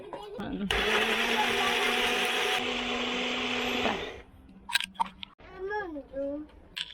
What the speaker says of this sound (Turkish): Hemen böyle blenderımız 700 watt. Bunu anında kullanıp mama yapabileceğiz ona.